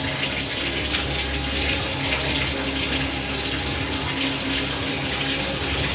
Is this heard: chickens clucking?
no